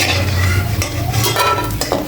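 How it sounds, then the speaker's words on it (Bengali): Fried lentil dumplings (bori) are scooped out of hot oil in a kadai. A spoon clinks and scrapes against the pan over a continuous close sizzle, with a few sharper scrapes near the end. "বড়িগুলো ভাজা হয়ে গেছে, আমি এবার তুলে নেবো বড়িগুলো।"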